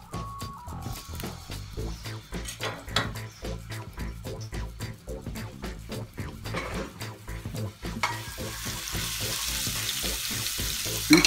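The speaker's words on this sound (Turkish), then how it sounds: "Yağı kızdırdıktan sonra sarımsakları atıyoruz." Crushed garlic fries in hot oil for a tomato pizza sauce, a loud continuous sizzle with rapid crackling pops and a utensil stirring in the pan, brightening into a stronger hiss near the end.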